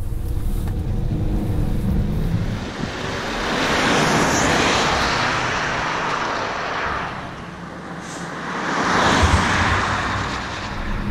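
A Volvo V60 Polestar Engineered pulls away hard in Polestar drive mode on a damp road, its engine and tyre roar rising and falling in surges, heard loudly from inside the car without speech.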